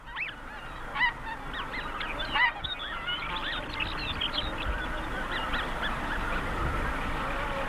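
A flock of snow geese on the North American tundra honks repeatedly in overlapping calls from several birds, moderately close, over a steady rumble of wind and background noise.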